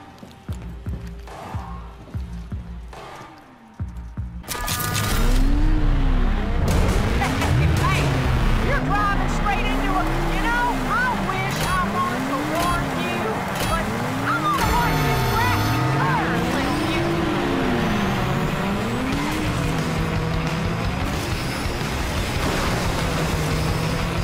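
Vehicle driving in the video game Rage 2, its engine rising and falling in repeated swells with rumbling and splashing textures after a short stretch of game sounds and speech-like voice at the start.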